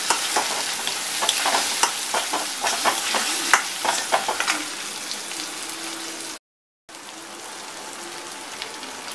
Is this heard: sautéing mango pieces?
yes